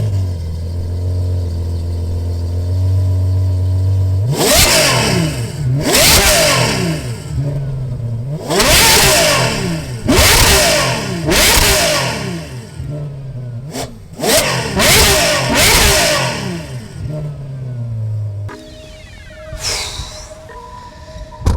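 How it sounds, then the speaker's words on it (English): A Ferrari 812 Superfast V12 fitted with an IPE exhaust blips through a series of sharp, loud revs, each climbing and falling back to a deep idle, repeated about eight times before a final rising burst. "So let's do some revs here"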